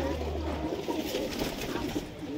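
High flyer pigeons coo softly and continuously in a loft, a low murmuring burble running throughout with faint background noise.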